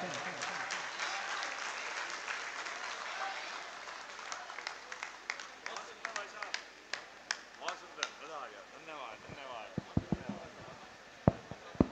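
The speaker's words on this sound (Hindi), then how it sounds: "आप लोग तालियां बजाकर मुझे विदा कर सकते हैं" Audience applause at an alumni meet at MIT Moradabad seeing off a speaker, a broad wash of clapping that thins out toward the end into scattered individual claps, with talk mixed in.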